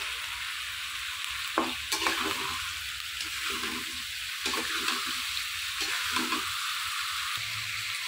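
Meat and raw onion fry in a pan with a steady sizzle, broken by several scraping stirs of a spoon against the pan, moderately loud and close, with no voices.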